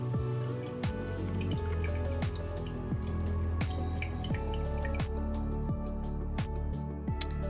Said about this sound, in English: This one is a well-set aquarium, but with a filter.